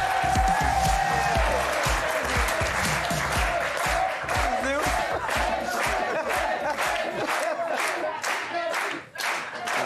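Studio audience on a French TV talk show bursts into sustained, loud applause with cheering, dense clapping filling the whole stretch before dipping briefly near the end.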